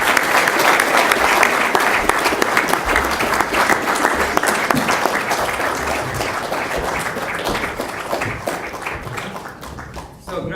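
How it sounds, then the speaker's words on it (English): An audience at an autonomous vehicle showcase claps for the presenting team, a loud, sustained round of applause that thins out toward the end. "I'd like to welcome up our team for a big round of applause"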